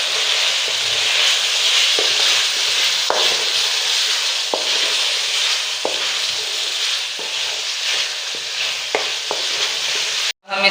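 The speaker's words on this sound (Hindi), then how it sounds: "अब इसे अच्छी तरह से मिक्स कर लेंगे।" Chicken karahi pieces with salt, crushed red chilli and turmeric stirred in a hot pan, a loud continuous frying hiss broken by periodic clicks of the spoon against the metal, ending with a sharp clatter.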